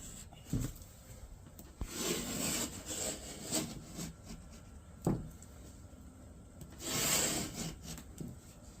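A knife scrapes and scores through drywall in a series of rough, uneven strokes, some short and some drawn out, heard close but fairly quiet with pauses between them.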